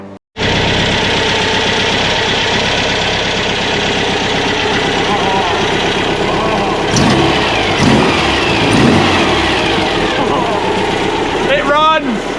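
A VW T2 Bay Window camper engine catches and keeps running, a steady loud mid-range idle throughout, with people talking over it and a few whistling sweeps near the end.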